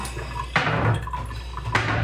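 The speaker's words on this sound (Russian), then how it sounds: "еще чуть-чуть добавлю воды" Water pours into a pot in two short bursts, a splashing, gurgling stream with a brief pause between, close by.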